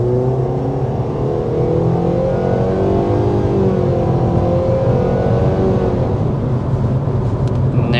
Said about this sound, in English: we're going to go ahead and start with a hard acceleration before we get our signature sound level reading